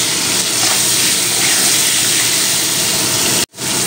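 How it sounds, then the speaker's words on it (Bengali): Potatoes, carrots and beans frying in a pan for khichuri give a loud, steady sizzle close up, with a brief break near the end. "এক মিনিট আলুটা ভাজা ভাজা করার পরে দিয়ে দিলাম কেটে রাখা গাজর, আর দেব বিনস, একই সঙ্গে ভেজে নেব।"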